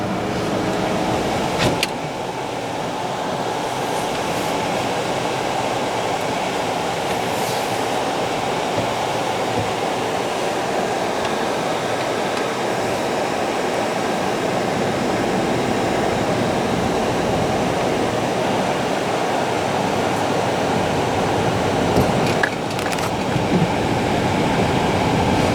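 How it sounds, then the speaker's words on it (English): Automatic car wash at Zips in Salem, Virginia, running with a car inside: a steady, loud wash of spraying water and machinery rumble surrounds the cabin throughout, with a couple of brief thumps and no talking. "we are going to get to go through his car wash"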